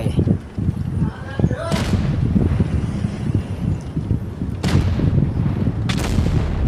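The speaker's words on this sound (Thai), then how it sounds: "เห็นคิงไทเกอร์ครับซัดคิงไทเกอร์ไป" Tank cannon fire in the game World of Tanks Blitz during a battle against a King Tiger, three sharp booming shots spread across the stretch over a constant low rumble, with someone talking excitedly throughout.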